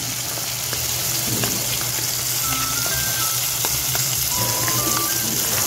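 Spice paste sizzling and frying in a pan of cooked-down tomatoes for a bottle gourd kofta curry, a steady loud crackle with small pops, no talking.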